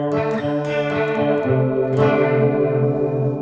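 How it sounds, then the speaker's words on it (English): An electric guitar plays sustained chords through a T-Rex Twister 2 chorus flanger pedal set for an 80s chorus, shimmering and warbling, thick and slightly distorted, close and alone. "reel it down, you just get more of a nice 80s chorus sound"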